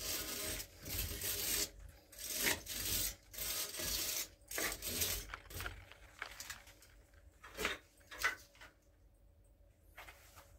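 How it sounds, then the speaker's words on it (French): A wire brush scrubs old plumbing hemp off pipe threads in repeated quick, close rasping strokes with uneven bursts that grow sparser toward the end, with no voices. "avec une brosse métallique, ça va me permettre de nettoyer l'ancien filasse"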